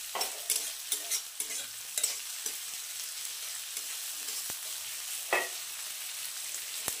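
Green chillies frying in a pan, a continuous sizzle broken by irregular scraping stirs and clinks close by.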